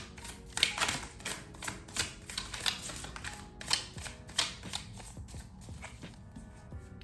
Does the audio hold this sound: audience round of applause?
no